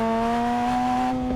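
Engine of a Fortnite car body in the Rocket Racing video game, a steady sustained hum with strong even tones holding level for the whole moment, fairly loud and close, with no talk over it.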